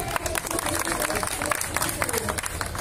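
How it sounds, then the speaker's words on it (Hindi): A crowd claps loudly and steadily to welcome a speaker at a one-day political protest sit-in at Jantar Mantar, with dense applause sustained throughout and voices mixed in. "जोरदार ताली से स्वागत है।"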